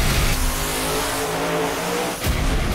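The Kraken Monster Jam monster truck's engine roars and revs loudly and continuously, a dense, close mechanical drone with a brief dip near the end before surging again.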